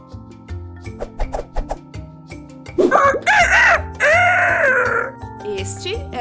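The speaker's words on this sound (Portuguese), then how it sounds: "Este é o som do galo, que vai cacarejar de novo." A rooster crows in a long, loud, drawn-out call over a bouncy children's song about animal sounds, with music and singing around it.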